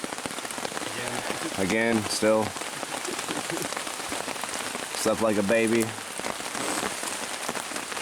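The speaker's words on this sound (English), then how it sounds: "It's raining." Steady rain patters on a tent during a morning camping trip in Kentucky's Red River Gorge, a dense hiss that runs throughout while someone talks briefly twice.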